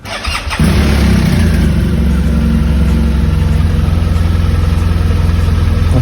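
BMW 1200GS motorcycle engine cranks briefly, then catches and settles into a steady, loud, close idle with an even rumbling pulse, no voices.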